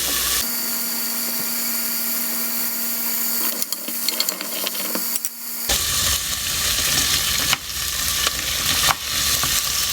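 Garlic, carrots and yellow split peas frying in a pot for Greek fava, a quiet hum giving way to a louder continuous sizzle with stirring clatter as ingredients are added.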